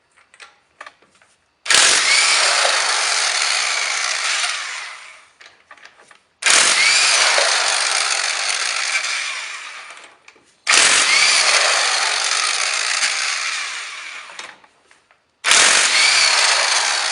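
An impact tool zips lug nuts off a 2014 Toyota Tundra wheel in four long, loud bursts of whirring and rattling, each lasting a few seconds, with short quiet gaps between them.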